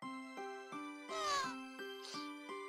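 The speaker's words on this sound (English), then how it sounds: "That sounded like a cat meow." Several cat meows from the video game Monster Rancher DS, each a short tonal call repeated at a steady rhythm, clear and close, with two louder, longer, more strained cries in the middle and no talk.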